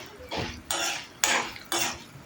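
Urad dal roasting dry in a pan, stirred with a spoon in four regular scraping sweeps that rasp against the metal, close up with no voices.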